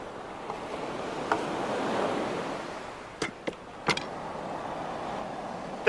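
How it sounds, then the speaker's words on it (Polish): A low, steady rushing of wind buffeting a gas burner close by while onions cook, with a few sharp clicks and knocks scattered through it. "to wiatr, który hula na palniku gazowym"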